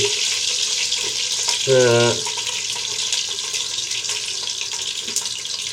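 Fenugreek soaked in vinegar, water and salt goes into hot oil for a vegetable pickle, giving a steady frying sizzle with a short louder burst near the start and faint voices underneath.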